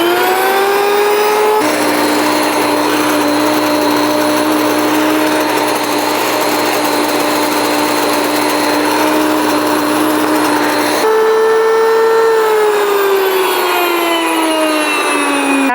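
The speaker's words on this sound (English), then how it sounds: "So let's go ahead and mill some flour." An electric grain mill grinds wheat into flour with a loud, steady whine and grinding roar that starts up, runs evenly, then changes pitch as it winds down, close and alone.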